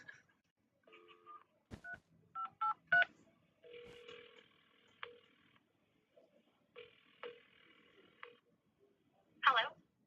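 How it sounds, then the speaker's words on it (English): A telephone number being dialed: a string of short keypad tones in uneven bursts, some paired quickly, interleaved with longer buzzing tone segments and clicks, fairly quiet and without speech over it. "I'm going to dial the phone number right now"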